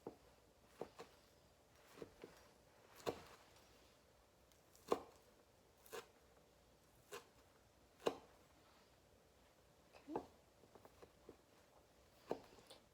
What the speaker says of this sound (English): I'm going to begin chopping them